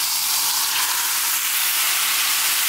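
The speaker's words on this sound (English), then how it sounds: "now she's gonna cook the masala in there" Masala sizzles steadily in hot oil in a pot, a loud, even, unbroken frying hiss that stays close and constant with no voices.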